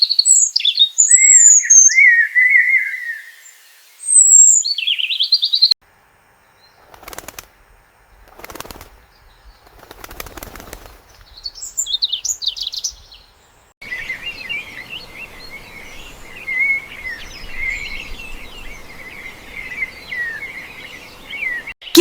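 Nightingale singing in an animated short story, with bright high chirps and trills in bursts, a few soft flutters and pauses, then a sustained steady warbling song over faint insect-like background.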